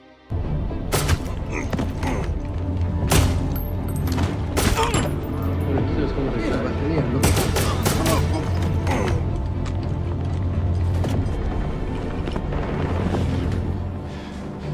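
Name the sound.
gunfire in an action movie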